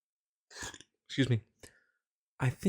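A short burp, heard close and brief, with a person talking just before and after it.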